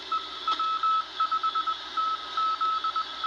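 A Morse code CW signal on an SCR-274-N BC-455B command set receiver with no filtering: a steady, clear tone keyed in short and long dashes over a constant hiss, close and moderately loud.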